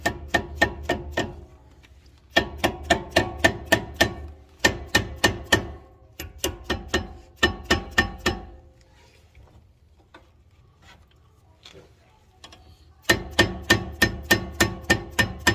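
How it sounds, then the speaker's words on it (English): Bursts of rapid, sharp rubber mallet blows on brake caliper pins in quick rhythmic runs, separated by short pauses with faint clatter, close and fairly loud. "we're gonna hit it with a soft hammer, rubber hammer"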